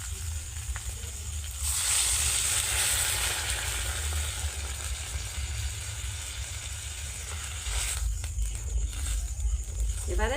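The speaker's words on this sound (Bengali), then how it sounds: "এবারে এর মধ্যে জল ঢেলে দিচ্ছি" Water is poured into a pan of sizzling, well-browned heron meat, setting off a loud, broad rush of hissing steam that swells over the steady frying crackle and lingers before easing back.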